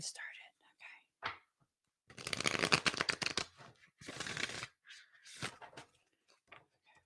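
Tarot cards are shuffled in a quiet room, producing two bursts of rapid riffling flutter, with soft voiced sounds and handling noises in between.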